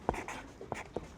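Short scratchy pen-on-paper strokes while writing a sentence, a few quick taps and scribbles in soft, close bursts, quiet and without talk.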